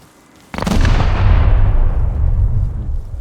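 In the survival video game Rust, a single loud shot or blast bursts out suddenly and rolls into a long, rumbling decay that fills the remaining seconds, with no speech over it.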